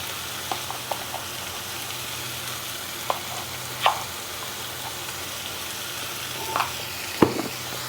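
Spices such as chilli, turmeric and coriander powder, pepper and garam masala are stirred into an egg biryani masala, with faint scattered spoon clinks and scrapes over a low steady cooking hiss.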